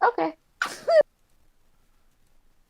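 A single sharp sneeze from a person in a misty forest setting, heard close after a brief spoken word, followed by near silence.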